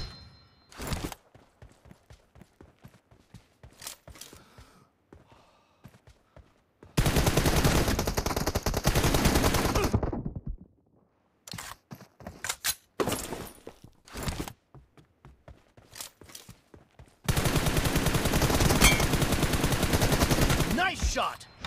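Gunfire in a mobile shooter game, with scattered single shots and short bursts giving way to two long sustained volleys of rapid automatic fire, loud and close, and a voice heard briefly between them.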